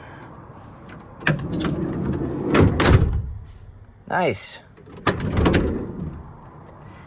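A car door on an Eagle Summit/Mitsubishi Expo, just after a broken handle was repaired, opens and shuts with a few sharp latch clunks and thuds close by, and someone speaks briefly between them.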